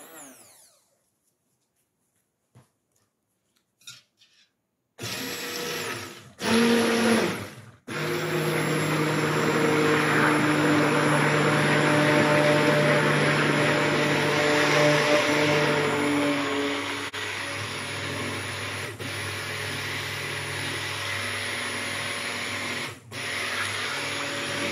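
A stick blender runs continuously while mixing sheep tallow soap batter toward trace, a steady close motor whine that starts after a few faint clicks, briefly stops, then resumes and drops slightly in speed partway through.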